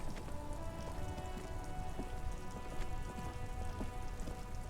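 Steady rain falls in the video game Disco Elysium, an even, faint patter of drops on hard surfaces with scattered individual drips, heard alone without talk.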